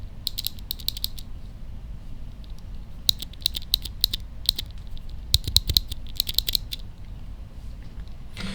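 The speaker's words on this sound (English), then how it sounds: "Now, that's just a naked switch, but if you can already hear it, I personally think with it naked, it already sounds really good." A bare, unmounted Matthias clicky keyboard switch is pressed repeatedly in uneven bursts, giving sharp, crisp, close clicks in clusters separated by short pauses over a quiet background.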